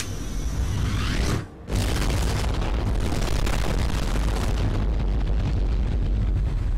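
A deafening explosion-valve blast in the video game Mirror's Edge, a harsh, distorted roar that fills the clip, cutting out for a split second before booming on loudly to the end.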